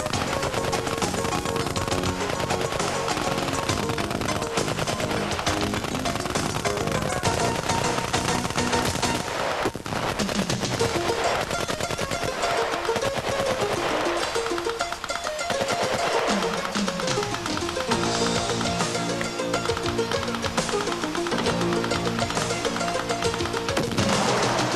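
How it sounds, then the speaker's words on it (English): Machine gun fire rattles overhead during a nighttime infiltration course at Fort Jackson, South Carolina, a dense, continuous barrage of bursts mixed with crashes that stays loud for the whole stretch. "Overhead machine gun fire made us"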